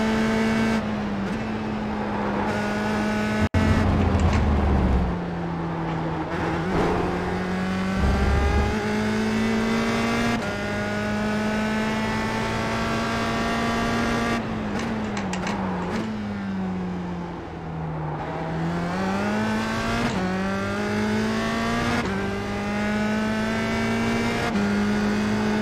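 USF 2000 open-wheel race car in iRacing at Suzuka, engine droning steadily and rising through gears as it pulls away, loud and continuous with pitch dips at shifts.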